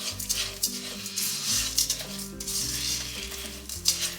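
Cane sugar melting and caramelizing in a pan, a steady soft sizzle with occasional stirring clicks, close and continuous with no talking.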